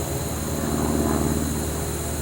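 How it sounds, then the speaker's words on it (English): Steady, loud drone of an airplane passing overhead, a continuous engine rumble with no other sounds. "Got an airplane going over the top of me here."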